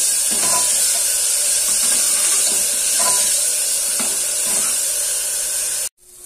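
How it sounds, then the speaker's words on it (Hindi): Onion and garlic paste frying in hot oil in a pan, a loud, steady hiss and spray throughout, close up and with no talk, cutting out abruptly at the very end. "मैं अब डाल देती हूँ प्याज और लहसुन का पेस्ट मैंने बनाया है और मैं इसको अच्छे से दो तीन मिनट तक भून दूंगी"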